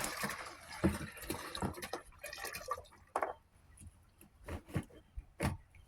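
A hand pump draws oil from a 55-gallon drum, giving faint, close liquid splashes and dripping with scattered pumping clicks and knocks, quiet and alone.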